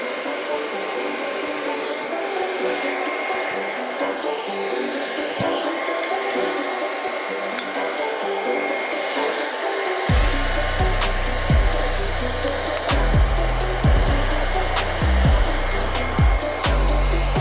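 A makeshift heat gun blows a loud continuous whoosh over an epoxy piece, its airflow roar deepening and growing harsher partway through, with a low rumbling drone and rapid ticking added.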